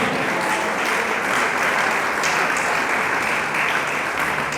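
A church congregation claps for the Lord in loud, steady, continuous applause that fills the whole stretch at a constant level, with no speech on top.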